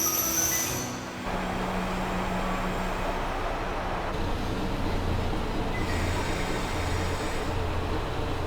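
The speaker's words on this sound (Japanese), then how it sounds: "JR 釧路駅で列車に乗り込み、いざ出発。" A JR train leaves Kushiro station on the Hanasaki Line in Hokkaido. A steady rumble of wheels and running gear carries on throughout with faint squeals and hums, heard from on board, moderately loud, with no talk.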